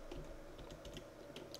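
Quick, light keystrokes on a computer keyboard entering a Linux command-line search, a short irregular burst of soft clicks heard faintly and close, with no speech.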